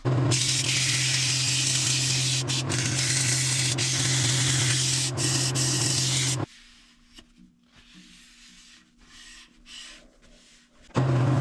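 Abrasive grit pressed against a turned wood piece spinning on a lathe gives a loud, continuous rasping hiss with a steady motor hum, then stops abruptly, leaving quieter handling noises and a brief return at the end.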